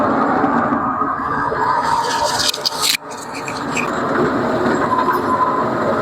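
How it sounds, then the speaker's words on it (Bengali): Loud, steady rumble from inside a moving train, with rattling carriages and rolling wheel noise; a brief sharp dropout comes midway. "এই ফার্স্ট এই ট্রেনে উঠা খুবই ভালো লাগতেছে।"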